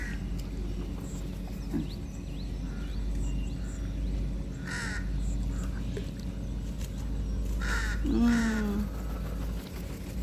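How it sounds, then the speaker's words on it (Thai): Crows caw a few times at middle distance over steady outdoor ambience near water, with faint other bird calls and low background noise. "นกกาก็เยอะ"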